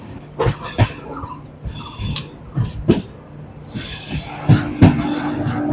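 A train slows on arrival at Hasimara station in the Dooars, rail cars clattering and squealing in irregular bursts, with metallic screeches and knocks, close by.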